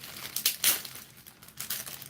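A plastic bag crinkles in bursts while a Hot Toys Punisher War Machine figure is unboxed, crisp rustling close to the mic with short pauses between handling.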